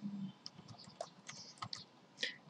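A computer keyboard typing a file name into patient chart software, with a quick run of light, close clicks and ticks at an uneven pace in a quiet room.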